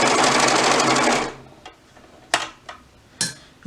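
Domestic sewing machine stitching a garment seam toward the crotch point runs in a loud, steady whir for about a second, then stops, followed by a few sharp clicks and handling knocks.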